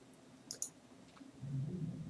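Two quick mouse clicks on a computer while working in Revit architecture software, faint and close, followed by a low hum of room noise.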